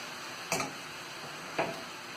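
Spanish omelette ingredients mixed in a pan: two short scraping strokes about a second apart over a low, steady sizzle, close and quiet.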